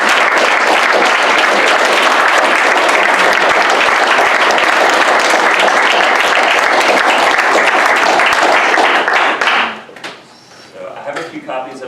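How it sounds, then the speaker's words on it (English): An audience at a book Q&A event gives a long round of applause, dense and steady for about ten seconds before dying away to scattered claps and room noise. "On that note, let's give Stuart a round of applause."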